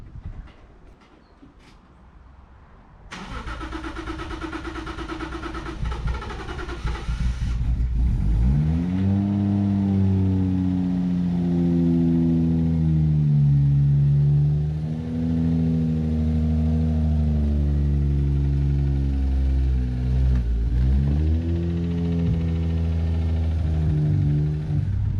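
A Lexus IS200 with a suspected blown head gasket starts up after a brief crank, then idles and revs steadily up and down, the engine note swelling and dipping, loud and close with no talk.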